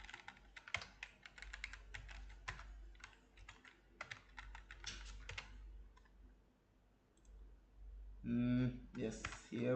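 Computer keyboard typing during front-end web development coding, a fast irregular run of light clicks across most of the clip, with a burst of speech near the end.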